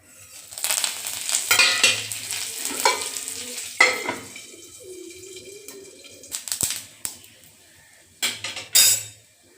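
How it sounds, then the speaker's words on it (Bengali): Green and dried chillies, nigella seeds, mustard seeds and curry leaves tempering in hot oil for a chickpea and pumpkin dish, with bursts of crackling sizzle and spatula clinks on the pan between quieter gaps. "এখন ফোড়নে দিয়ে দেব কাঁচা লঙ্কা, শুকনো লঙ্কা, কালো জিরে, সর্ষে আর কারি পাতা।"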